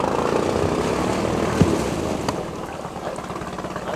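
A boat with a Honda outboard motor sets off on the water, its engine giving a steady, fairly loud drone with no talk over it.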